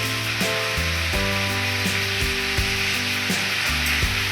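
Tomato and onion curry frying in a pan for Karnataka-style tomato gojju, with steady sizzling and repeated scraping strokes of stirring, close and continuous throughout, with no talk.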